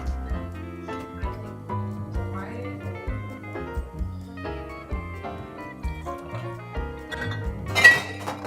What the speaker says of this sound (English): I'm going to start off by filling up my tin with some ice.